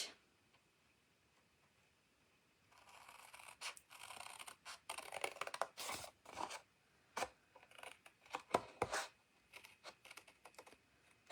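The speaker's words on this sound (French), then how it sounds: "On va prendre les ciseaux et on va venir couper jusqu'à notre trait." Scissors snipping through paper while cutting up to a marked line for a cascade card, a series of close, crisp irregular snips and rustles after a quiet start, with no talk.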